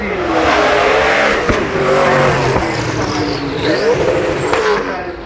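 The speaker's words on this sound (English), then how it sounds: "twin turbo V8 Fury engine." A twin-turbo V8 supercar engine roars and revs continuously at Goodwood Festival of Speed, loud and close, pitch rising and falling with gear changes.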